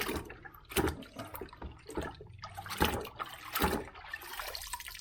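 Holley 4160 four-barrel carburetor from a 390 Ford Mustang plunged into cleaning liquid, giving faint, uneven sloshes and gurgles with several splashy bursts and a trickling wash in between.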